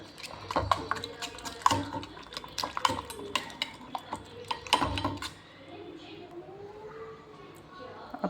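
A utensil clinks and scrapes repeatedly against a pan while an egg mixture is stirred, irregular metallic taps, with a voice talking intermittently underneath.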